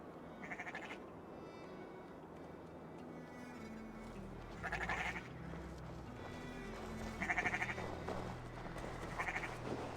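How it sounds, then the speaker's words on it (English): Sheep in Assassin's Creed Valhalla bleat several times, with short bright calls spaced a few seconds apart over a low, steady ambient bed. "Okay, so the sheeps are just gonna follow you."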